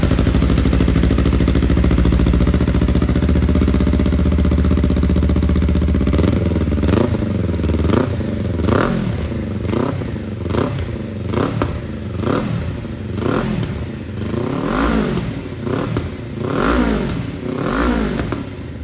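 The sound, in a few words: Kawasaki KLE 500 motorcycles revving with aftermarket exhaust and dB killer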